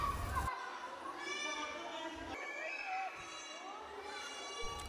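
At a temple bathing spot, children shriek in fear as they step slowly into the water holding onto rods, their high wavering cries overlapping with other crowd voices.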